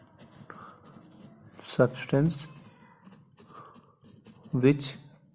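Marker or chalk scratches across a board during a chemistry lesson on acids and bases, in short scraping bursts mixed with a teacher's speaking voice.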